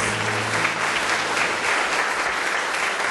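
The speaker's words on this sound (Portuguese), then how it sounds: "Aplauda ao Senhor." Church congregation applauding in a steady, dense wash of clapping that holds at an even, loud level throughout, with a faint low hum beneath.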